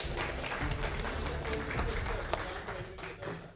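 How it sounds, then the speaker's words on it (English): A conference audience in Dubai applauds steadily throughout, dense broadband clapping with some voices mixed in the crowd noise. "Huge round of applause for yourselves"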